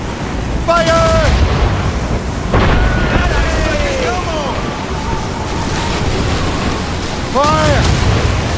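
Ship cannons boom in the naval battle game Assassin's Creed Rogue, with several heavy blasts amid crashing waves and shouted voices over the roar of the sea.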